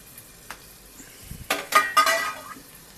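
Chopped tomato goes into ginger-garlic paste frying in a pan, the base for a prawn curry. A short sizzle is broken by bursts of spoon scraping and clatter against the pan, with no talk.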